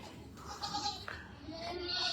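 A goat bleats a few times at close range on a farm amid background noise and some voices, with short wavering calls rising over a busy ambient bed.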